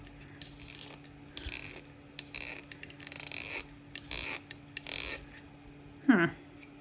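Mechanical pencil sharpener cranking on a pencil, several short grinding bursts of rasping near the mic with brief pauses between them, then a faint voice near the end.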